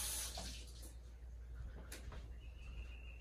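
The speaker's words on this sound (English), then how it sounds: "Rinse my hands off." Tap water runs steadily while hands are rinsed at a kitchen sink during cooking, a quiet, continuous splash with a few brief brighter spatters.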